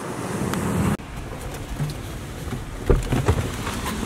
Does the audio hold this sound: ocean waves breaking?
yes